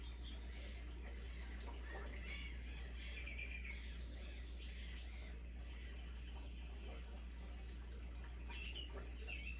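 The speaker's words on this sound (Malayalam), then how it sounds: "പലതരത്തിലുള്ള ബേർഡ്സുകളുടെ ശബ്ദം നിങ്ങൾക്ക് കേൾക്കാം." Several small forest birds chirp and twitter in short scattered calls at a distance, faint over a steady low background hum, with no voices.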